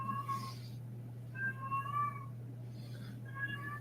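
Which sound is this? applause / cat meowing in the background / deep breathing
cat meowing in the background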